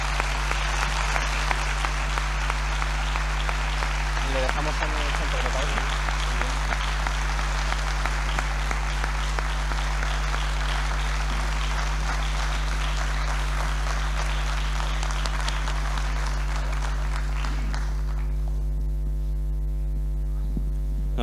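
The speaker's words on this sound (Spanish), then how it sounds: "vamos a recibir ya con una fuerte ovación a Cayetano Rivera Ordóñez" Sustained ovation at a bullfighting talk in Pozuelo de Alarcón welcoming matador Cayetano Rivera Ordóñez, dense applause filling the room for about eighteen seconds before fading, over a steady electrical mains hum.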